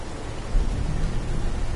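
Rain and rumbling thunder in a video game form a dense, steady wash of noise with a low rumble, moderately loud and continuous, with no talk.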